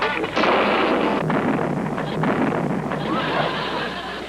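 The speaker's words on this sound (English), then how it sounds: "he's certainly inventing some interesting explosions." Rumbling, booming blasts roll over a dense, noisy background, loud and sustained with a few sharper bursts.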